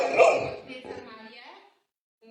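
A dog barks in greeting when a visitor arrives, a short burst of excited barks and yips close to the microphone that mixes with people talking. The sound fades out after about a second and a half.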